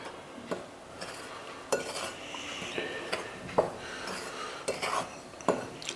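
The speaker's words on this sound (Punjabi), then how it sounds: "ਪਹਿਲਾਂ ਇਹਨਾਂ ਸਾਰੀਆਂ ਚੀਜ਼ਾਂ ਨੂੰ ਆਪਾਂ ਚੰਗੀ ਤਰ੍ਹਾਂ ਮਿਕਸ ਕਰ ਲੈਂਦੇ ਆ" Ragi millet flour and other bread ingredients being mixed in a bowl, with repeated scraping and clinking of a utensil against the bowl in an uneven rhythm, close and moderately loud, no voices.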